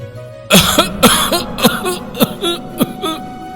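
A close, harsh cough breaks into a rapid string of about eight hacking bursts that fade toward the end.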